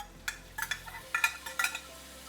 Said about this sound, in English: You can hear the sizzling. That is what you need to hear when you're adding your chicken.